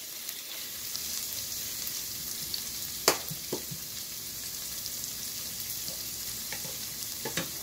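Oil sizzles in a pot as the base for a seafood chowder, a constant, moderately close frying hiss broken by a few sharp clicks and knocks from the pot or utensil.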